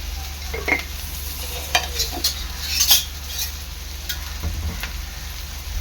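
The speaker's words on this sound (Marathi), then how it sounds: "आपला कांदा आहे ना चांगला लाल होईसपर्यंत शिजून घ्यायचा आहे" Finely chopped onion with salt fries in a pan until it browns. A moderate sizzle carries scattered clinks and scrapes of a utensil stirring against the pan, and no voices are heard.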